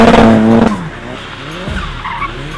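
A mid-engine Vuhl sports car slides around a tight, twisty race track, its loud engine note giving way to sustained tire squeal and skidding noise as the tail steps out.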